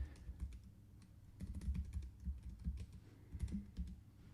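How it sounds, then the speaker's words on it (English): Quick, uneven bursts of keystrokes on a computer keyboard, close and fairly quiet, tapping in short clusters with small pauses between them, no voices. "And then I can type another one."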